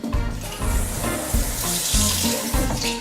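Tap water runs into a pot being filled to boil eggs for egg salad, a steady close rush and splash that carries on without pause.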